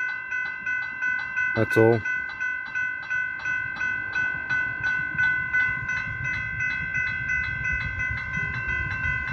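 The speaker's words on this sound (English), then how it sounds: "Here comes the train now." A train approaching the upgraded Railway Road level crossing in Eltham, with crossing bells ringing steadily throughout, a short horn blast, and a rising rumble of wheels underneath; a person speaks briefly.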